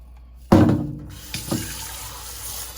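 A coconut cream container is rinsed under a kitchen tap: water bursts on suddenly and loud, splashes steadily, then briefly surges again as the container shifts under the stream.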